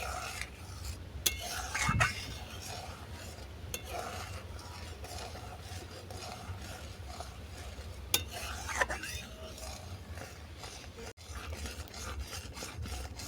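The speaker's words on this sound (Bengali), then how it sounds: "আবার দু মিনিট এটাকে নেড়ে রান্না করে নেবো" Sweet potato payesh stirred in a pan, with steady soft scraping and rubbing of a spoon against the pan, plus a few sharper clinks, close and fairly quiet.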